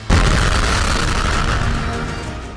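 A deep, roaring explosion blast hits suddenly and loud, then rumbles on with a long rolling tail that slowly fades, with no voices over it.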